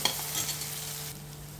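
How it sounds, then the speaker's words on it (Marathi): Ginger-garlic paste frying with onion and tomato in a pan gives a steady, close sizzle with light stirring, continuous through the short stretch and easing slightly toward the end. "आलं लसूण पेस्ट चांगलं भाजायचं म्हणजे त्याचा उग्र वास येत नाही"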